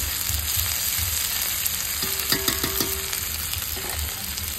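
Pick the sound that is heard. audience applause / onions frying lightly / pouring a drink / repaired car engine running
onions frying lightly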